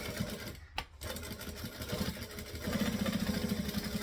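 A sewing machine backstitching through a bag, its rapid mechanical whirr running close and steady with a short pause, then a slightly busier run of stitching.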